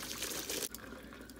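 Cooked pasta and its water pour into a strainer in a home kitchen, a loud rushing splash that stops abruptly partway through, leaving a faint quieter trickle and settling sounds.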